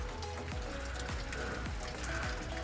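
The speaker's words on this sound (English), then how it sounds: "It's raining" Rain falls steadily on a garden, a dense continuous patter of drops with occasional heavier drips, close and even throughout, with no voices.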